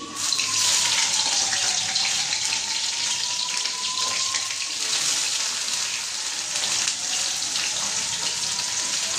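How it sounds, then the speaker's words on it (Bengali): Bitter gourd slices fry in hot oil in a heated wok, giving a loud, steady hiss that runs unbroken from start to finish with no voices. "তেল দিয়ে করলাগুলো ভেজে নেবো আমি। তো করলাগুলো আমি দিয়ে দিচ্ছি"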